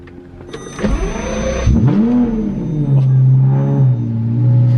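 A Lamborghini Murcielago engine cranks and fires up, rising into a loud, rumbling idle with a brief rev that settles into a steady low drone, heard close and alone.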